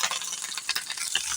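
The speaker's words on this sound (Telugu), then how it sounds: "ఇవన్నీ కూడా అటు ఇటు తిప్పుకుంటూ చక్కగా దోరగా వేయించేసుకోవాలి" Onions, green chilies and curry leaves frying in hot oil while being stirred, a close crackling sizzle broken by scraping strokes of a spatula in quick succession over a brief moment, with no talk.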